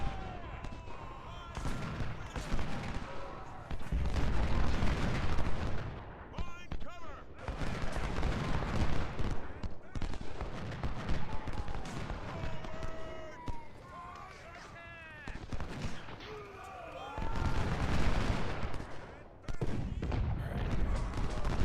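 Artillery canister fire and musket volleys rumble through a Civil War battle in the strategy game Ultimate General: Civil War, with booms and crackling gunfire nearly continuous under someone talking.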